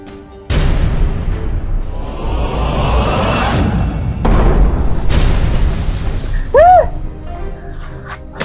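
A firecracker bomb set off as a prank goes off with a loud, close boom, followed by a long rumbling tail and a second burst, with shouting and a whistle-like tone near the end.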